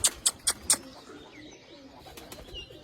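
Pigeons perched on a rooftop, with four sharp, evenly spaced close calls at the start, then softer cooing and faint chirps trailing on behind in a light outdoor ambience.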